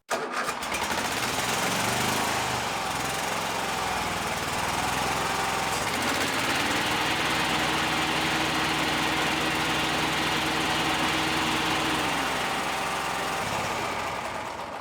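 A zero-turn riding mower roars steadily nearby with its blades engaged, its engine loud and constant with a rough, buzzy edge and a slight shift in pitch midway.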